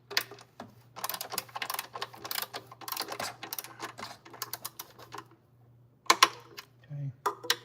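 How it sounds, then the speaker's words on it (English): A ratchet wrench torques carbon fiber velocity stacks on a BMW M5 engine, giving quick, close runs of clicking pawl ticks in short bursts with brief pauses. A low steady hum sits underneath. "right now I'm just making sure they're all torqued"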